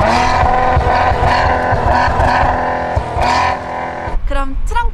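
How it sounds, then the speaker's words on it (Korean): A Maserati Ghibli SQ4's twin-tip exhaust revs loudly and rumbles close by in a few surging pulses, ending with a sharp drop and a brief crackle. "배기음 한번 들려주세요"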